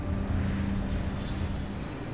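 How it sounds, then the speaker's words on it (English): A fixed-wing aeroplane flies low overhead on approach, with a steady, loud engine roar and low rumble holding throughout. "the aeroplanes open their undercarriage around about now"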